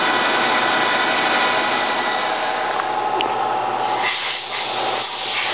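A 17 x 60 inch Acer 1760 E engine lathe turning a hardened 55 Rockwell Stellite forging punch gives a steady, loud broadband machining hum with a high cutting hiss that shifts slightly near the end, with no talk.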